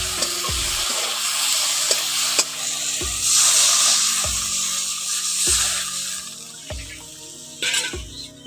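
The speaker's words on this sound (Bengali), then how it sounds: "হলুদ গুঁড়ো লঙ্কা গুঁড়ো দিয়ে একটু ভালো করে ভেজে নিচ্ছি।" Small fish fry in oil with turmeric and chili powder, giving a steady sizzle broken by regular scraping stirs of a spatula in the pan, close and alone.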